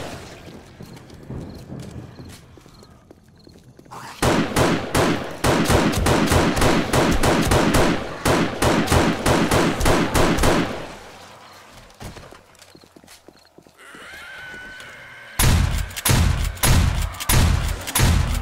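Video game gunfire rattles through a Bloodmoon horde in rapid automatic bursts, loud and close, with a long sustained volley, a quieter lull and then a final burst of fast shots.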